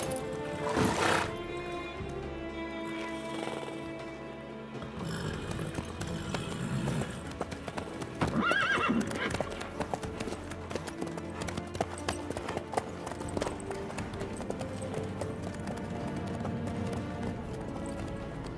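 Horse hooves clip-clop steadily in the video game The Witcher 3, a brisk rhythmic trot of hoofbeats over a background game score, with a brief whinny and occasional voices.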